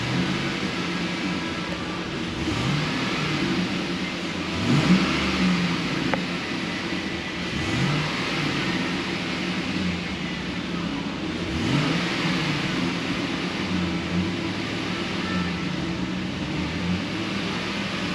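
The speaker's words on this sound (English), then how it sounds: "Let's give it some revs." A 2007 GMC Sierra with a 5.3 V8 and a cut-off catalytic converter, misfiring, is revved in several moderate blips over a steady idle, heard nearby with no talk.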